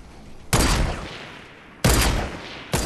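Gunfire in the Fortnite video game, heard as three loud, abrupt bursts of rapid shots, each trailing off over about a second, with no speech.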